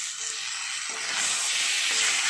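Taro stems hit hot oil with frying onions in a pan and give off a steady, bright sizzle. The hiss swells slightly partway through and carries on alone with no talk.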